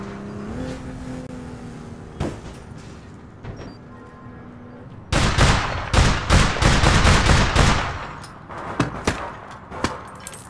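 Bursts of video game gunfire in APB Reloaded, sparse single shots at first, then a loud dense volley of rapid shots in the middle, followed by scattered closer bangs.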